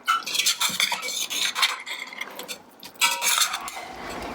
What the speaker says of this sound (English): We'll give it a jolly good mix now.